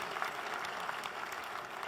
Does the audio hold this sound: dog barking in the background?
no